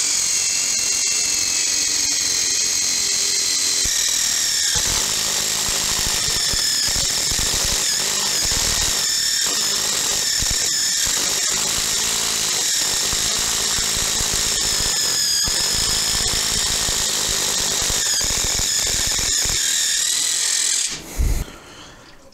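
Ryobi impact driver boring into wood with a Forstner bit: a loud, continuous high-pitched whine with slight wavering that runs for about twenty seconds, then cuts off abruptly.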